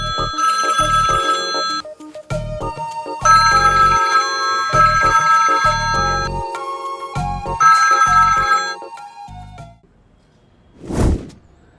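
A telephone ringtone sounds in a Hindi-dubbed South Indian action film: loud, close, repeating melodic chiming in three bursts with short gaps, then a brief swelling whoosh, with no talking over it.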